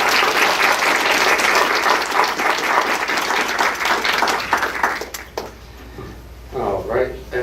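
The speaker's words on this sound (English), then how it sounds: "Round of applause for the parents as well" Audience at a Seguin ISD school board meeting gives the parents a warm round of applause, steady dense clapping that thins out and fades toward the end, followed by a few faint sounds.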